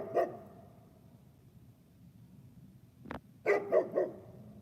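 A puppy barks, one bark near the start, then a quick cluster of three or four yaps toward the end, moderately close over quiet background noise.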